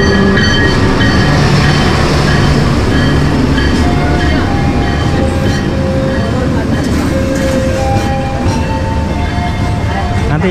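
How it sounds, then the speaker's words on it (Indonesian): Mutiara Selatan passenger train pulling into a station, a loud steady rumble of rail cars with wheel noise and long tonal squeals, with people talking nearby on the platform. "kereta api Mutiara Selatan yang baru masuk"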